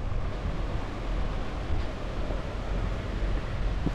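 Steady wind blows outdoors on a cold morning near a roadside bus stop, a broad continuous rush with low rumbling buffets against the microphone and no voices.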